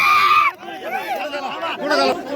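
A crowd gathers in Matori village in Beed district, with loud, close voices chattering and shouting over one another. Several people call out at once in an excited hubbub.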